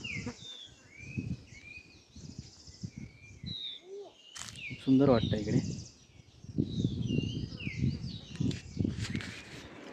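Birds chirp and whistle in the background, fairly faint, while people talk and footsteps shuffle nearby.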